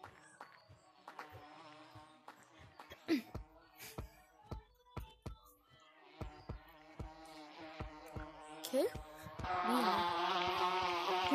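Buzzing bees at a beehive inside the Gorilla Tag VR game, a thin insect drone under a series of sharp clicks and short excited voices, swelling into a louder, denser buzz near the end.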